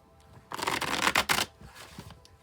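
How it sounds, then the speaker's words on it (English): Tarot cards being shuffled by hand, a close burst of rapid riffling and flicking papery rustles lasting about a second, then quieter handling sounds. "so I'll shuffle till it feels like it's ready, and then we'll cut and deal right off the top"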